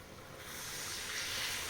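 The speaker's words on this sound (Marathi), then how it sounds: "पाणी ओतून घेते आता" Hot water is poured into a pan of spiced drumstick-pod curry, a faint, soft hiss that swells into a steady rushing, sizzling splash, with no one speaking.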